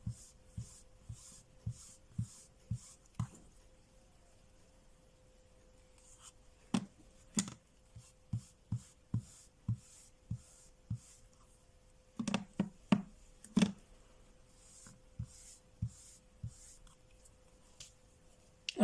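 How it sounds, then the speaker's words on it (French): A blending brush is swept across a white ribbon for a card background, giving soft, steady, rhythmic scratchy strokes close by, with a few sharper taps and clicks and no talking. "Je suis tout simplement venue brosser comme ceci mon ruban."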